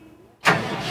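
Engine of a Klein KTP220 CFA concrete pump for piling rigs starting up, a sudden loud burst of cranking and ignition that settles into a steady running roar after a short quiet lead-in.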